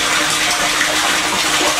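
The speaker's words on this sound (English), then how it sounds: "And you see that flowing? That's coming from the 12 volt pump." Water from a 12 volt pump pours steadily into an aquaponics fish tank, a close, continuous splashing rush with no breaks.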